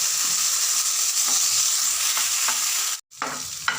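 Asafoetida sizzling in hot oil in a pan, a loud continuous frying hiss with a few stirring scrapes, cut by a brief silence near the end before the sizzle returns, no talking.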